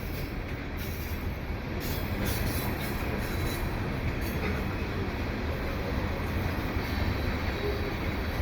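A CPKC unit tanker freight train with CP and KCS locomotives rolls past at Dorval Ramps, a steady, unbroken roar of wheels and cars that stays loud and even from start to end.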